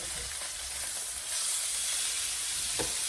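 Salmon fillet sizzles steadily in a hot pan on a stovetop, a broad, continuous hiss that swells slightly as the fish is turned, with a brief knock near the end.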